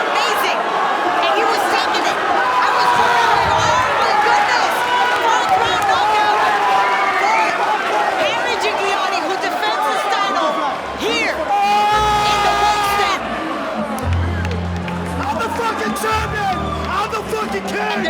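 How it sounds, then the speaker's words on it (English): A fight crowd applauds and cheers for two bare-knuckle boxing main event competitors. Loud, continuous clapping mixes with whoops and chatter, with a voice over the noise and a brief lull midway. "Ladies and gentlemen, another round of applause for these two main event competitors tonight."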